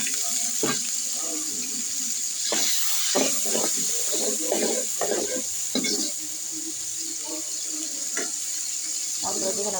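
Water is poured into a pan of fish with salt, turmeric and chilli powder, running steadily under a broadband hiss with intermittent clatter and sizzling bursts throughout.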